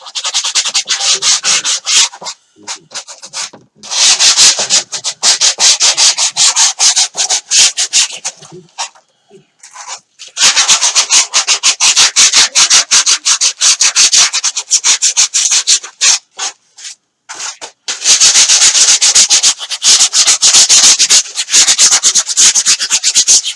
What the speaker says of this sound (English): You just want to give it a light overgo with the sandpaper just to rough it up a little.